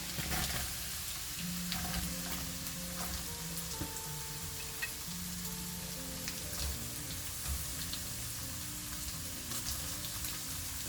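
Carrots and leeks hit hot oil with chopped garlic for Chinese-style fried noodles, giving a steady, fairly quiet sizzle with soft crackles and occasional stirring scrapes.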